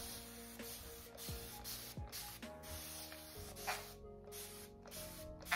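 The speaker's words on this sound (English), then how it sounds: "So I'm gonna mist my hair." A water spray bottle misting hair, soft repeated spritzes that are faint and close, sitting over a low, steady background hum.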